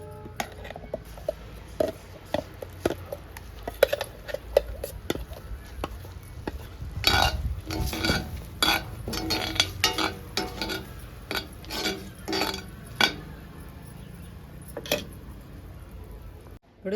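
Ground peanut chutney is stirred into a hot tempering pan, with a steady run of scraping and knocking strokes, some sharp and close, over a low sizzle, and no talking.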